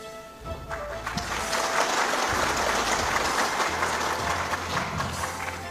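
Crowd at a speech by Ganjar on protecting Indonesia's seas breaks into applause: broad, continuous clapping rises after a brief low rumble and holds steadily for about five seconds at moderate level.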